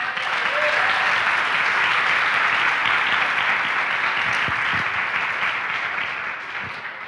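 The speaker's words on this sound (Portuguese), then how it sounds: "Então aplauda Ele." A church congregation applauds during a sermon, a thick, continuous roar of many hands clapping at close range that holds steady and then begins to fade near the end.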